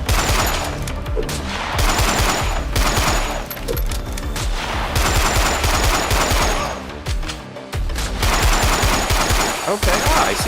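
Sniper rifles and other gunfire in a small game-jam shooter, loud rapid bursts of shots firing in clustered volleys with short pauses between, layered over dense game sound.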